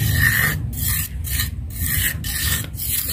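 Rhythmic rasping strokes rub a painted, wood-effect metal surface smooth. Several close, gritty back-and-forth passes come in a steady rhythm.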